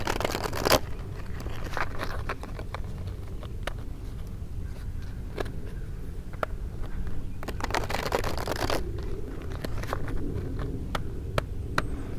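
Tarot cards shuffled and drawn, steady close rustling and sliding throughout with a couple of louder riffle bursts near the start and past the middle, no talking over it.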